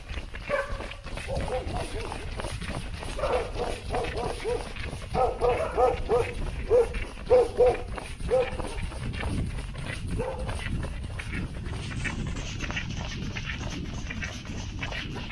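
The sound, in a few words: dogs barking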